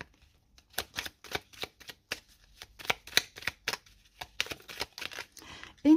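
Oracle cards are shuffled by hand, giving a series of crisp, close riffling bursts in an irregular rhythm with quiet gaps between them and a voice starting at the very end.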